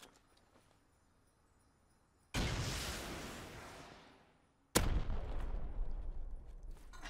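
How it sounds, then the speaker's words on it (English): Two heavy rocket blasts aimed at a Bradley tank in the survival game Rust, each a sudden loud burst that fades slowly, the second hitting sharper than the first. "I'll keep pelting you with rockets."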